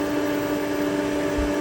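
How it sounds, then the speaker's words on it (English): A steady low mechanical hum with a constant tonal drone from the compressor of a Kohree dual-zone refrigerator freezer running continuously up close. "This is the sound of the refrigerator freezer with the compressor on."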